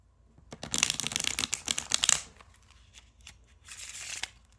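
Playing cards are riffled and shuffled in two quick bursts of crisp fluttering, close by, with a short pause between them.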